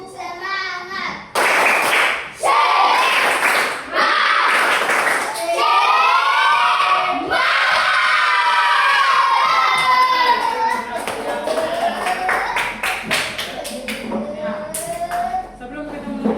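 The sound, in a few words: schoolchildren doing a spirit clap and cheering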